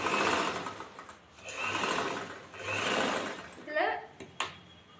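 A sewing machine stitches chudithar fabric in repeated loud whirring runs, pausing between bursts as the cloth is turned, with someone speaking briefly near the end.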